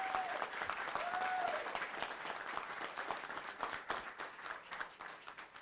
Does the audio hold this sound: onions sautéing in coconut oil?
no